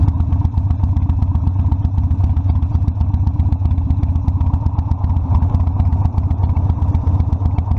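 A Harley-Davidson Sportster Custom 1200 motorcycle rumbles steadily while being ridden, its low engine pulse loud and continuous with wind and road noise over it.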